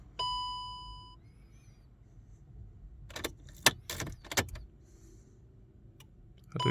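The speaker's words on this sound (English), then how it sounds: "turn the ignition on and off." A Seat Ibiza key turns in the ignition: a short electronic chime sounds once, then after a pause come several crisp metallic key clicks and jingles, quiet and close.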